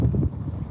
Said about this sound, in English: So it's got really windy again.